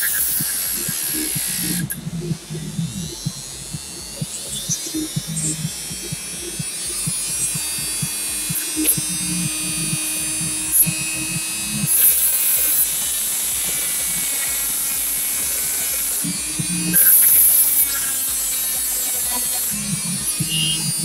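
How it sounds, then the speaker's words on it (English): Dremel rotary tool running with a cutting wheel, a continuous high buzzing whine with occasional louder bursts as it bites, under brief low talk. "You definitely want to be wearing some eye protection when you're using cutting wheels or anything with a Dremel."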